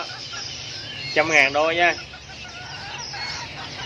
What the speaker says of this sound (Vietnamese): đó cuốn thái hay còn gọi là gà rutin nha anh em